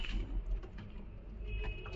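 Giribaz pigeons, including a khaki female, coo softly and continuously in a loft, a low steady murmur with faint rhythmic pulses throughout.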